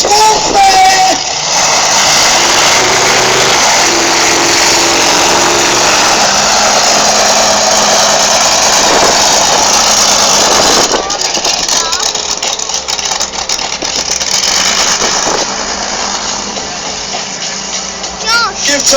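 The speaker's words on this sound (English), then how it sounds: "a 1500 brake horsepower monster truck called Swamp Thing" A 1500 horsepower monster truck engine roars loud and continuous at a stadium event, holding a steady heavy drone for most of the stretch before easing slightly, with an announcer's voice over it.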